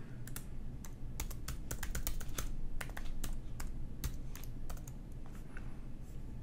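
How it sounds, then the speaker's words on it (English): A password is typed on a computer keyboard in a quiet room: a steady run of light, crisp key clicks in uneven bursts, close and alone. "I'll type that in."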